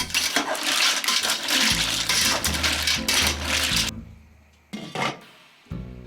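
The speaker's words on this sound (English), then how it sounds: "I put the 2 kilograms of watch mussels in a pot heated over medium heat" Two kilograms of mussels tumble into a pot heated over medium heat for paella, giving a dense, loud rattle of shells on metal that stops abruptly, followed by a couple of isolated knocks and clatters.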